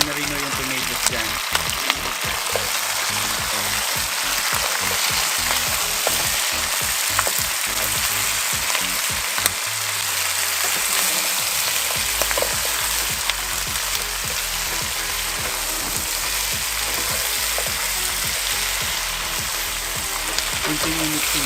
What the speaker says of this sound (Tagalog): Parang igigisa nyo na rin yung tomatoes dyan.